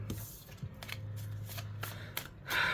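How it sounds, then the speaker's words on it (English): Repeated soft riffling slaps of tarot cards being overhand shuffled by hand in quick bursts, close up, with a low steady hum underneath. "overhand shuffle's good."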